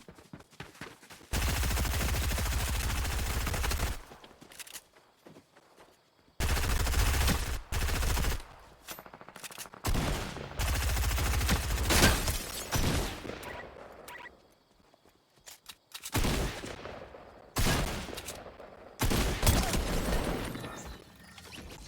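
Bursts of rapid automatic gunfire in a Fortnite solo match come in loud clusters separated by near-silent gaps, with sporadic single shots between the longer volleys.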